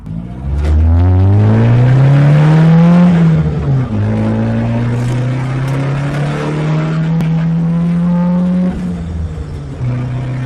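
An AE71/TE72 Toyota Corolla's naturally aspirated engine revving hard at wide open throttle, loud and close, rising in pitch, dipping briefly, then climbing and holding a high strained note before easing off.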